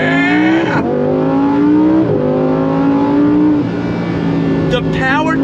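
A 2024 Lamborghini Huracan Sterrato V10 accelerates hard on back roads, the engine climbing through gears with rising revs and several sharp upshifts, loud and close, with a brief excited shout near the end.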